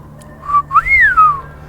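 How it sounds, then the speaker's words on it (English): A character whistles a rising and falling melodic tune in the post-apocalyptic RPG ATOM RPG Trudograd, a clear, fairly loud whistle over a low steady game hum. "Let's whistle."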